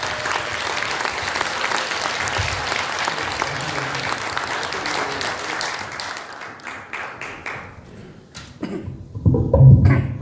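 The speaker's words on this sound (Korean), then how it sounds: "큰 박수 부탁드리겠습니다" A lecture audience bursts into loud, sustained applause for an introduced speaker, the clapping thinning out toward the end as a few coughs and a voice begin.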